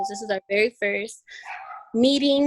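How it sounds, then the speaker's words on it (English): A dog barks in the background of a home video call, a few short yips rising between a woman's speech. "Sorry for my dog in the background."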